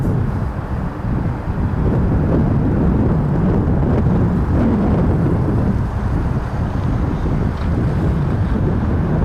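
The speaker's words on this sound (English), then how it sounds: "it is a little bit windy here tonight" Strong wind buffeting a microphone outdoors at night beside RAF Lakenheath airbase, a continuous loud low rumble with gusty swells and no voices.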